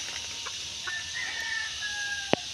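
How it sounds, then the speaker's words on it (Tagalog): A chicken clucks nearby with short soft calls and a faint drawn-out crow-like tone, low in level over steady outdoor background hiss, near a backyard garden of chili plants. "May manok po dito."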